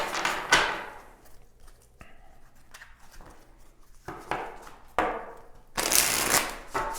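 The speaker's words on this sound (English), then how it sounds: "I just felt like giving it a little bit more of a shuffle here" Tarot cards shuffled by hand close up, several bursts of riffling and sliding in irregular spurts with quieter handling between, no talking.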